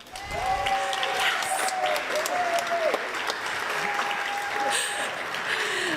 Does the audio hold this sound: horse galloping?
no